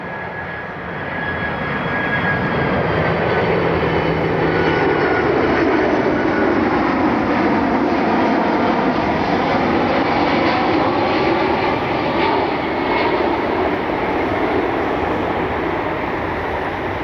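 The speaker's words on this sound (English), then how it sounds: "767 inbound from Memphis." A FedEx Boeing 767 heavy jet inbound from Memphis to Cleveland passes with a loud, steady engine roar that swells and holds for the whole stretch, with no talk over it.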